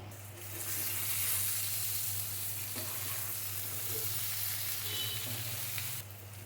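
Bitter gourd slices frying uncovered in a little oil, a steady close sizzle that holds evenly for several seconds before cutting off abruptly.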